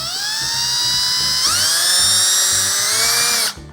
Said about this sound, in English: take a 5/64 drill bit, and I'm going to pass this through here